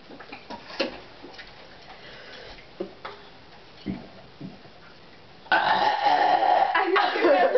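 During a burping contest, a long, loud, rough belch bursts out after several seconds of faint clicks and small mouth noises, rumbling on steadily to the end.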